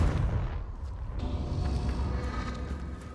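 Repeated blasts of the Confringo fire spell in the Hogwarts Legacy video game, a dense rumbling burst of explosive booms and crackling that fills the clip loudly and without voices.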